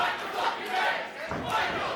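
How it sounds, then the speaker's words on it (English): A pro-wrestling crowd at a Christmas special show roars and cheers, swelling waves of shouting voices rising and falling loudly across the arena. "The crowd are willing him on"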